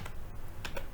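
Quick, close keystrokes on a computer keyboard while entering an equation in MATLAB, a few soft clicks within under a second over a faint room hum.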